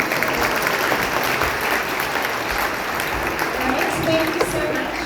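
After a Sunday feast lecture in a temple hall, the audience applauds in a thick, continuous wash of clapping that stays loud and even throughout, with a few voices mixed in.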